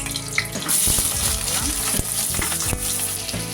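Onions sizzle and fry in hot ghee with cinnamon, cardamom and cloves, a loud continuous crackle broken by a few stirring scrapes and knocks of the spoon against the pan.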